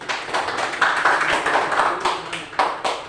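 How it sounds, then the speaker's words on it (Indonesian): Students in a classroom clap together in a short, fairly loud burst of applause, with uneven patters of hand claps and no talking over it. "Saya mau tepuk tangan."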